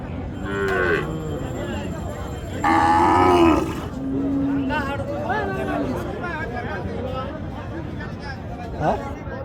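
Sahiwal cows with calves at a busy village cattle market in Raniganj, Dinajpur, let out several loud, drawn-out moos close by, amid a constant hubbub of people chattering and talking.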